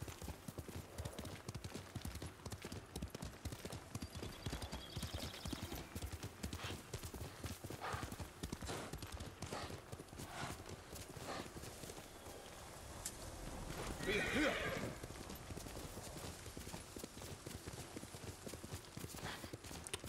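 Horse hooves clip-clopping at a steady fast gallop across terrain in the video game Ghost of Tsushima, continuous and close, with a brief neigh near the middle and faint speech now and then.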